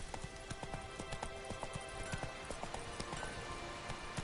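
Galloping hooves of the horse Roach in a video game drum in a rapid, steady rhythm, loud and continuous, with faint ambient noise behind.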